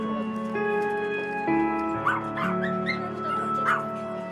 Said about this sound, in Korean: 이곳에 놓고 가면 곧 경매장으로 팔려갈 강아지들